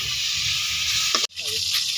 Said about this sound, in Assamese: এইফালে একদম লাও আগ ভাজি আছে